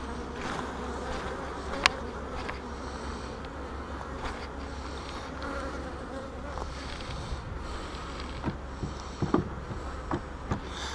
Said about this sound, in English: Golly, they're still full of bees